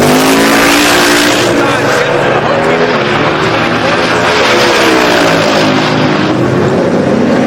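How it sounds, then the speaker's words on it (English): A Chevrolet Nova drag race car making a pass at a drag strip during a Sick Week event, its engine roaring loud and continuous with a rising pitch, while an announcer talks over it. "Brad Thiessen coming back in the Nova"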